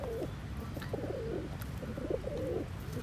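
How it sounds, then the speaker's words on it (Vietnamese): American giant pigeons coo in a series of low, throaty phrases, several bursts in quick succession at moderate distance over a steady background hum. "những cặp bồ câu gà Mỹ đây anh em"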